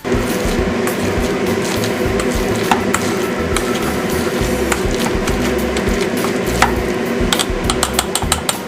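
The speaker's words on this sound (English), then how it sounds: "So I'm going to keep mashing around until you get any smooth, because I don't want to get any lumps of those." Soft squelching and tapping of ripe banana being mashed with a potato masher in a bowl, steady and continuous with small clicks of the masher against the bowl, close by and with no talk.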